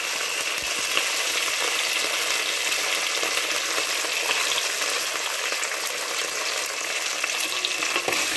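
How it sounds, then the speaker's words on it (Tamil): Onions and curry leaves sautéing in a hot pan for a Vendakkai egg gravy, with a steady, dense sizzle and frying crackle holding even throughout, close and fairly loud, no voices. "இது நல்லா பொன்னிறமாக வதக்கிக்கிங்க."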